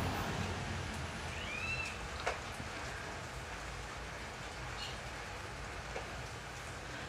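Steady rain hisses softly in the background, with a few faint drips and distant sounds over the wash.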